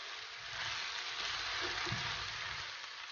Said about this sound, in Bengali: এখন ভালো করে নেড়ে চেড়ে মিক্স করে নেব।